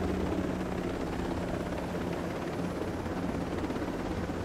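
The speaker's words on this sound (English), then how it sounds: "Oh, there's two helicopters." Helicopter rotor in the video game Ghost Recon Breakpoint, a loud continuous thudding whir held close and steady throughout, with no voices over it.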